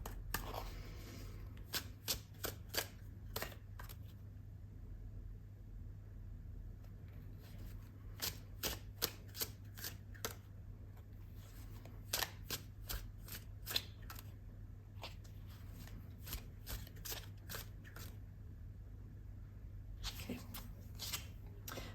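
Tarot cards being shuffled and cut in a steady series of crisp riffles and slaps over a low constant hum, with a few pauses between bursts.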